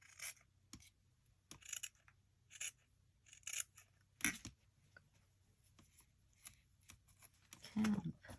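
Scissors snip through a scrap piece of craft material for shabby chic clusters, a quiet, close series of short crisp cuts with brief pauses between them and a soft rustle near the end.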